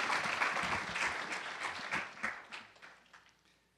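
Audience applause in a lecture hall welcoming a humanities lecturer, a dense wash of clapping that swells at first and then gradually thins and fades out over a few seconds.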